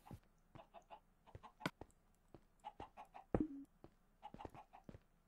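Minecraft chickens give soft, scattered clucks and short bursts, some layered with quiet clicks, spread unevenly over about five seconds at low volume.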